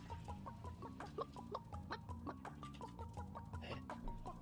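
A chicken in the video game Realm Royale clucks in a quick, steady series of short, repeated clucks, moderately loud and close, with no talking over it.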